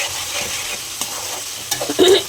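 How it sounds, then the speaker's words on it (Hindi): Masala of coarsely chopped onion, garlic and ginger frying in a pan, a steady soft sizzle with stirring scrapes and a few louder clatters near the end. "इसको अच्छे से मुझे करारा करना है, फ्राई करना है"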